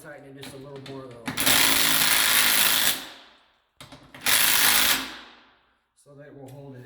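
A power tool tightens a wall-mounted handrail bracket in two loud bursts of whirring and ratcheting, each lasting about two seconds, with a voice talking before, between and after them.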